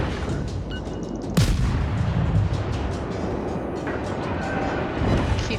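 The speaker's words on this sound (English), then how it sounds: "And now I'm just gonna lay shots into this guy." Naval artillery fire in the World of Warships game: a heavy boom hits sharply near the start, followed by a dense, rumbling battle din with further muffled blasts, loud and continuous throughout.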